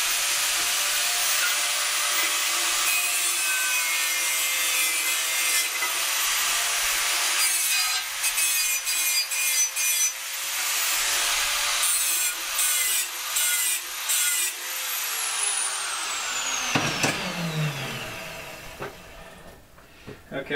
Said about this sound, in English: So I'm going to fire up the angle grinder